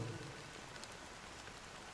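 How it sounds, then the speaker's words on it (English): Steady, even rain in the video game Honkai: Star Rail, a dense continuous patter that holds at one level throughout with no voices or other sounds. "you thought the rain was on your end. It does sound very realistic, doesn't it?"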